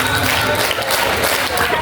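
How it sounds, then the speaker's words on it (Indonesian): Students at a school Ramadan programme clap together on cue, a loud dense burst of many hands that fills the room and merges into a continuous patter with a faint crowd murmur underneath. "Tepuk tangan lima."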